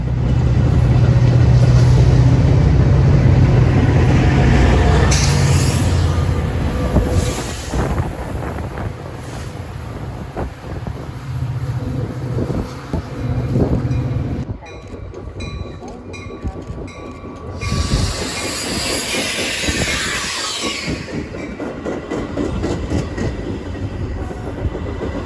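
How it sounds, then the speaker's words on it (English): A Metra F40PH diesel locomotive works hard in Notch 8 hauling commuter coaches, its loud, sustained roar rising and falling with passing wagons and gusts of wind noise on the microphone. No one speaks. "The F40PH is still running in Notch 8 to generate heft for the coaches."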